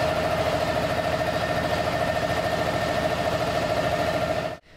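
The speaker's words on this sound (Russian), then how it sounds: "Это линия по разливу продукции." An underground bottling line filling counterfeit motor oil hums with steady mechanical drone and a rapid repetitive clatter, continuous and even before cutting off abruptly at the end.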